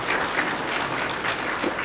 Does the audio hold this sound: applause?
yes